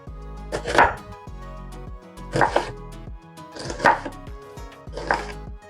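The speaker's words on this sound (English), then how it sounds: "I'm just going to cut this onion into smaller pieces also." Knife chopping an onion on a cutting board: four loud, close bursts of rapid chops about a second and a half apart, with no talking.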